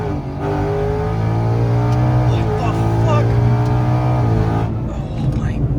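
A Ford Mustang GT with a twin turbo kit accelerates hard from a roll at about 40 mph, its loud, steady engine roar climbing in pitch for several seconds from inside the car, with a voice briefly heard over it.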